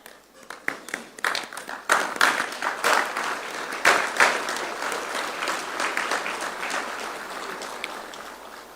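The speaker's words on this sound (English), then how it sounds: "I request all to kindly rise and give the standing ovation to my lords." Hall audience at a formal state-level meeting rising for a standing ovation: scattered claps quickly swell into dense, sustained applause from many people, close and loud, holding steady before easing slightly toward the end.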